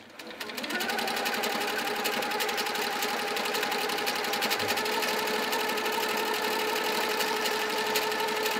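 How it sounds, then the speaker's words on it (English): A domestic sewing machine runs steadily during free motion quilting of a spiral design, a close, continuous, rapid mechanical whirr and needle clatter that starts up after a brief pause and holds an even speed throughout. "when we're free motion quilting like this, it doesn't have to be perfect"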